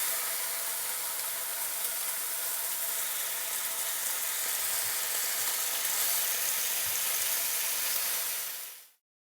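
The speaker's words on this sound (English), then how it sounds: "I'm going to be adding my strips of bacon. We're going to let them crisp up on both sides on medium-high heat." Strips of bacon fry in a pan on medium-high heat, a dense, steady sizzle and crackle that holds for several seconds before cutting off abruptly, with no talking.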